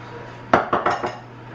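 A utensil knocks against a bowl four times in quick succession while chocolate chips are stirred into banana muffin batter, sharp close clinks over a faint steady hum, no voices.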